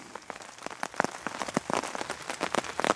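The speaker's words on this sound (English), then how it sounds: "Just a nice steady rain." Steady rain patters close by on a surface at a hammock campsite during a rainstorm, with dense irregular drops and no voices.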